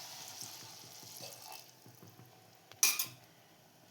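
Water is poured into a pressure cooker holding potatoes in a home kitchen, a brief splashing burst near the end after faint clinks and rustles of utensils.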